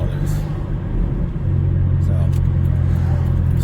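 2009 Pontiac Vibe with a MagnaFlow muffler exhaust on a test drive: a steady, loud low droning engine and exhaust rumble throughout, continuous and even.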